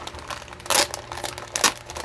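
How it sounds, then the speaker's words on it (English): A plastic bag from an armor kit unboxing being opened by hand, close crinkling and rustling with a couple of louder crackling tears, no talking. "let's open up the plastic bag and see what's inside this plastic"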